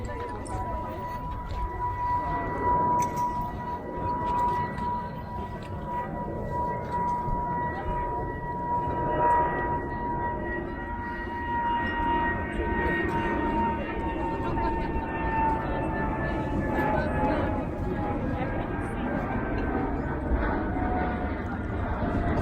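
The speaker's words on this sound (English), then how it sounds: "Obviously you can hear the plane going over here." A plane passes overhead close to the Gatwick flight path at an outdoor car boot sale in Rusper, with a sustained engine drone and slowly falling whine heard under people talking.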